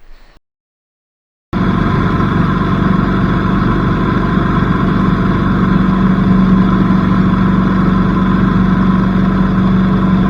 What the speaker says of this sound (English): flying in a single engine small aeroplane over towns like this